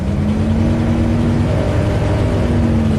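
A rebuilt Ford big block engine revs under throttle with a loud, continuous, steady engine roar and droning hum close by.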